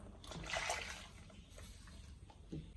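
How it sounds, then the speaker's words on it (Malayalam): Buttermilk poured into a heated pan for a Kerala-style curry, making a soft, steady splashing and sizzling wash at a quiet level, with no talk. "അതിനകത്തോട്ട് മോരൊഴിക്കുക."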